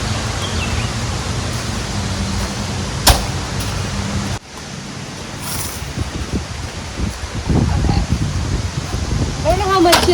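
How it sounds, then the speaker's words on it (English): Wind gusts roar and buffet continuously, a broad rushing noise with a few sharp knocks, growing stronger toward the end. "it's really windy out here today"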